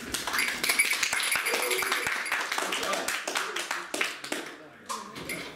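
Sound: applause

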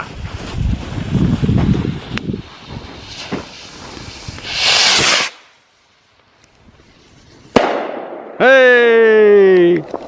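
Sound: fireworks being set off

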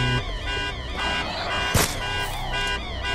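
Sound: car alarm going off in the video game Dead Island 2

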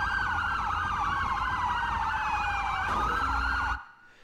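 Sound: ambulance sirens in a video game

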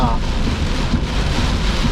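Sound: heavy rain while driving

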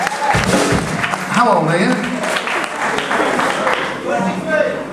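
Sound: audience applause

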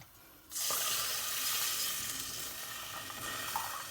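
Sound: milk poured into caramelized sugar for semolina halva

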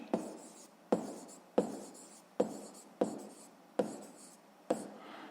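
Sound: writing by hand

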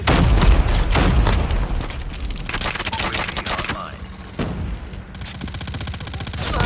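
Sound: gunfire in Call of Duty Mobile video game

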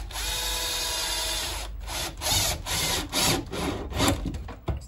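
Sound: screwing solar panel inverter down in place

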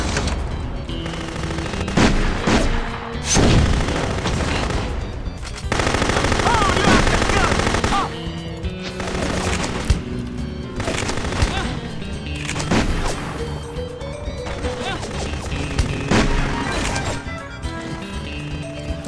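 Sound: micro missiles firing in video game No One Lives Forever 2

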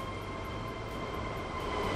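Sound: train running in Train Fever video game

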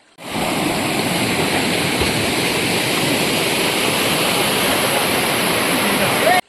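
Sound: small forest stream flowing

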